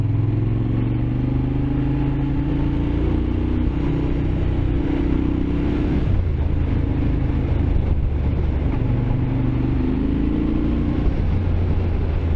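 A Moto Guzzi Griso motorcycle rides along a mountain road with sheep around, its engine a steady, loud drone with rising and falling tones as the rider works through the gears.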